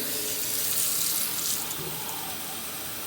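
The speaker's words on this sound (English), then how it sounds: "So I'm going to put some water." Tap water runs steadily from a kitchen faucet into a pot for ramen broth, a close, continuous splashing rush with no talking over it.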